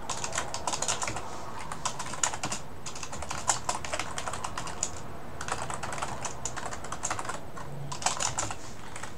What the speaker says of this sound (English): Distract me a bit from this repeated typing.